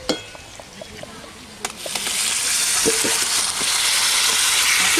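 Chicken pieces dropped into a pan of cooked spice paste, a clink and thuds at first, then a loud, steady sizzle of frying that rises and holds close by.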